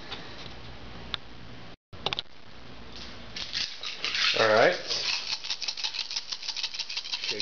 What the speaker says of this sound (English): Shaking all the dice.